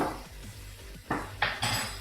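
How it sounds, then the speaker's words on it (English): Curry powder and garam masala being stirred into a pot, with a few distinct metallic scrapes and clanks of a utensil against the pan in quick succession, loud and close with no talking. "And again, stir everything in."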